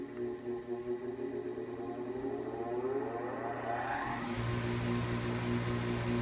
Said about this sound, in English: Turn on your grinding wheel